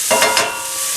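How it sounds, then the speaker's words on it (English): Vegetables hit hot oil in a hot pan, producing a loud, bright, close sizzle with a couple of quick stirring scrapes near the start, then a steady hiss. "the oil is hot, the pan is hot, and the veggies are going to cook beautifully"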